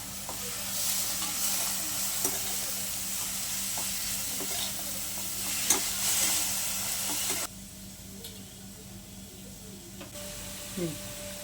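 Onion and chopped cabbage sauté in a pan with a steady, close sizzle and occasional stirring scrapes. The sizzle drops to a quieter simmer partway through.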